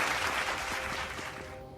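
A burst of crowd applause from a space exploration video game sound effect, full and bright at first, then tapering off toward the end.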